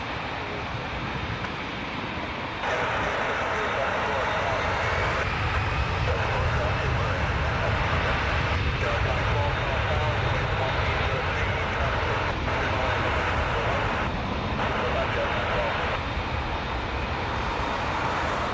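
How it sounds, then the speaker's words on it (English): An Air Canada Airbus A320, 35 years old, at Toronto Pearson: a sustained broadband jet engine roar that swells and holds steady, with a person talking over it at times. "This A320 is going to Newark, Air Canada 1512. This is a 35-year-old aircraft."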